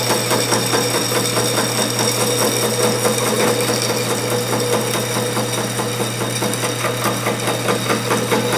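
Slitting saw cutting into a spool valve engine block on a machine tool, kept lubricated, giving a steady loud rhythmic chatter with a constant low hum throughout, no talking.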